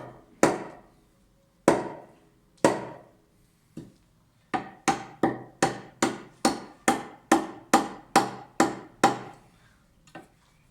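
A full flat grind knife is hammered through a tough piece of wood while batoning, giving about fifteen sharp, loud wooden strikes, a few widely spaced and then a fast, steady run.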